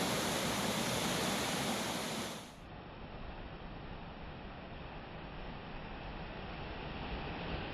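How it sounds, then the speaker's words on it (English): Tawa Cascade waterfall on the Bradley Fork, with a steady, loud, broadband rush of flowing water that holds constant throughout and briefly dips in brightness partway through. "Flowing water is simply mesmerizing."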